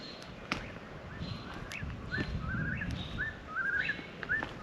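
A noisy bird calls repeatedly at a campsite in the morning, sharp rising chirps in quick succession over faint background noise, with a few clicks and knocks nearby.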